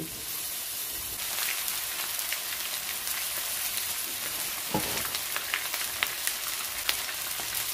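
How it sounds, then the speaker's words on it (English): Steady sizzling of beef tenderloin searing in hot canola oil in a pan, a continuous crackling hiss with occasional louder pops, no voices. "I use canola oil for frying my beef."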